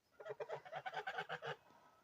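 Young roosters give a faint, rough crowing call, a quick series of squeaky syllables rising and breaking off, heard from a short distance.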